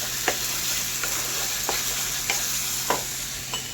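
Masala with chopped capsicum fries in a pan, a steady close sizzle broken by several sharp scrapes of a stirring spoon at irregular intervals.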